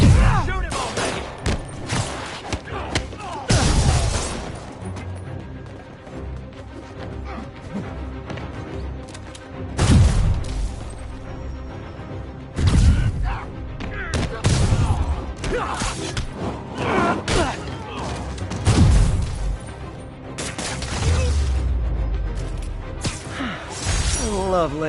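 Enemies firing guns in the game Spider-Man PS4, with bursts of shots mixed with loud crashes, shattering impacts and whooshes; a voice speaks at times over the fighting.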